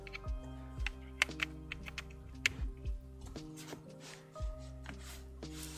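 Clicky typing on a newly installed computer keyboard while playing TETR.IO, a fast, irregular run of sharp keystrokes with bursts and brief pauses, up close and with no talk over it.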